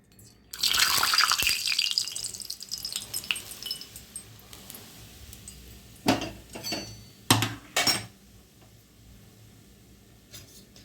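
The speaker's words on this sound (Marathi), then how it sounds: "तूप छान इथे कडकडीत तापलं तर आपण पिठावर मैद्यावर टाकणार आहे" Hot ghee, heated until smoking, is poured onto maida flour for shankarpali dough. It lands with a brief sizzling hiss that fades, then a few sharp clinks of utensil against the bowl, close by, with no talk.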